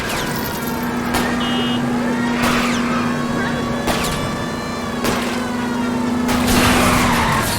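Tires skid and squeal during a car chase in the video game L.A. Noire, with several sharp screeches bursting over a steady engine drone and a continuous low hum.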